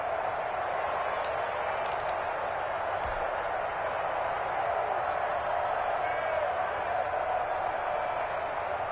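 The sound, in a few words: stadium crowd noise in a football video game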